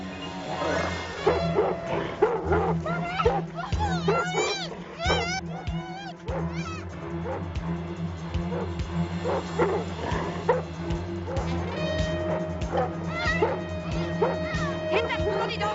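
A dog barks and yips repeatedly amid a noisy, chaotic scene on a TV drama soundtrack. The barks are close and irregular, mixed with shouting voices, a low steady hum and scattered clatter.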